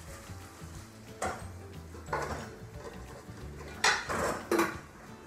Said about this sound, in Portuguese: eu vou arrumar a louça do que ela cozinhou